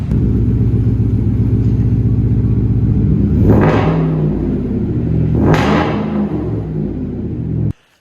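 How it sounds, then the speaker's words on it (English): Diesel Ford F-150 pickup engine idling loudly while backing into a garage, a steady close rumble with two brief rising revs before the sound cuts off abruptly. "we're gonna back Evan's truck in here and put in some fancy new LED lights"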